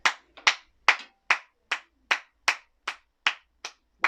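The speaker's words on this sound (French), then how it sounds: "c'est 1 minute d'applaudissements" Sharp, isolated hand claps ring out one at a time in a steady, slow rhythm, about ten distinct claps spaced roughly every half second, close and crisp with silence between them, as a minute of applause at a Nice versus Bordeaux football tribute.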